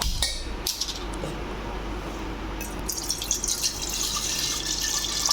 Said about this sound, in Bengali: দুটো হাঁড়িতেই আমি অল্প করে পানি দিলাম